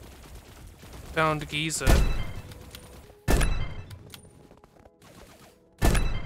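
Gunfire from enemies in the sci-fi shooter game Echo Point Nova, three loud sharp bursts spaced a couple of seconds apart, with brief talk in between.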